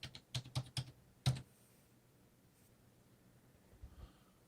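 A password is typed on the keyboard of an HP Envy desktop: a quick run of a few close clicky keystrokes, one firmer key press, then near silence with faint room noise.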